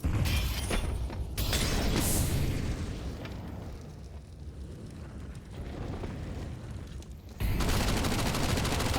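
Sustained gunfire and explosions rage in a Counter-Strike match, dense, loud and continuous, with a brief lull midway before the firing surges again, no voices heard.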